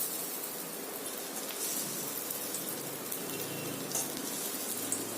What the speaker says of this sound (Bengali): এইভাবে সব বড়িগুলো আমি ভেজে নেব